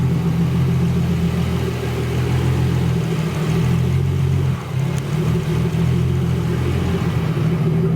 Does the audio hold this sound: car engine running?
yes